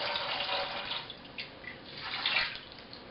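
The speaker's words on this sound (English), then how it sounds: "And now we just wait for it all to siphon down." Home-brewed java stout siphoning down onto a priming sugar solution makes a steady, close trickling and splashing of liquid that runs alone for about three seconds.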